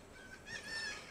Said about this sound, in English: Baby turkeys.